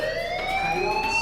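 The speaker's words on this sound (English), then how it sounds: "Hey, do you hear that fire alarm?" A fire alarm in the Life is Strange video game wails steadily, a loud rising electronic tone with sharp high overtones that fills the short stretch.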